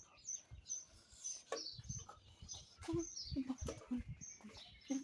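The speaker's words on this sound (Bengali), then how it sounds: "শুধু পাখির ডাক" Several birds call and chirp in short repeated bursts, some near and some farther off, with faint voices and low rustling underneath.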